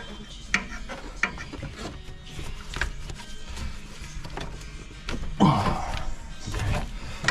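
Wrench or ratchet working a tight 14mm nut on the back of a Honda Civic FN2 Type R exhaust manifold, with scattered clicks, scraping and metal knocks through the clip and a louder burst of rubbing and clanking near the end.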